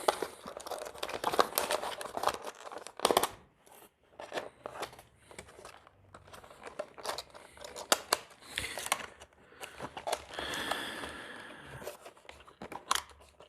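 Snipping scissors cutting tie-ins while preparing for a homebrew Dungeons & Dragons campaign, with quick repeated crunchy snips and crinkling close up, alone without talk.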